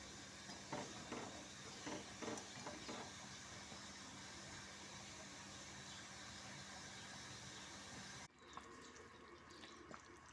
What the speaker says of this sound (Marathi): आणि एका हाताने फिरवायचं थोडंसं, आणि छान शिजू द्यायचं।